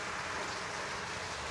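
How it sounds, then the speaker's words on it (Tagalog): Rain falling outside, heard as a faint, steady hiss for a brief moment, with no voices. "Umuulan sa labas."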